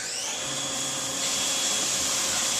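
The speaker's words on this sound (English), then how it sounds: "all it's going to do is come down and it's going to spot drill where you're going to have your holes" A CNC machine spot drilling after cycle start gives off a steady high-pitched spindle whine with a broadband hiss that holds constant and slightly brightens partway through, close and continuous with no voices.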